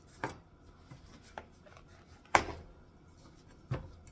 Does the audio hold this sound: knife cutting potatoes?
yes